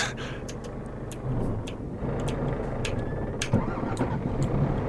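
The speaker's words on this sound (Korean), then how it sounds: "자 시동 걸고" A truck engine in Euro Truck Simulator 2 cranks and starts, then settles into a low steady idle rumble with a few light clicks on top, and no one talks.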